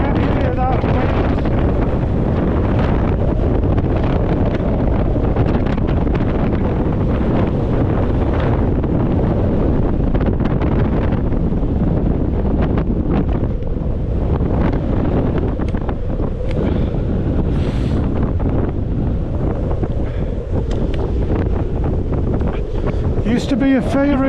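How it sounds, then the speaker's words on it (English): Strong wind gusting across open moorland, buffeting the microphone in a loud, continuous roar with ragged surges that never let up over the whole stretch. "Well, I hope you can hear that wind."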